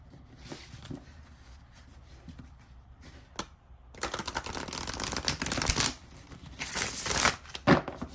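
A gold-gilded tarot card deck riffles and flutters in two bursts, a brisk papery shuffling preceded by quieter handling and taps of the deck.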